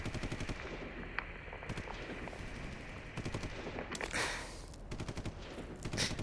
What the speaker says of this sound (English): Sounds like gunfire started breaking out again.